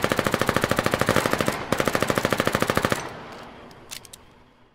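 Rapid automatic gunfire from a shotgun-armed enemy in the video game Partisans, loud close bursts of steady rhythmic shots for about three seconds, then a quieter tail with a few faint clicks.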